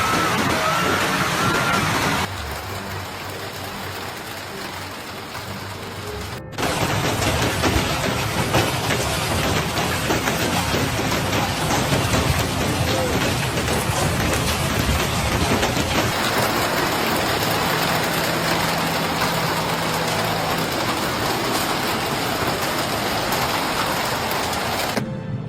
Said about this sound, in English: Enormous hailstones are falling like rain, destroying everything they touch.